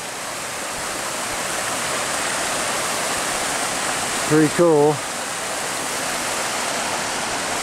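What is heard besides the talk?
flowing mountain creek near Colorado gold mine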